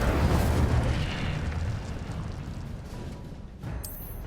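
A fiery Incendio spell bursts out with a loud roaring whoosh that fades over a few seconds, followed by a short bright crackle near the end.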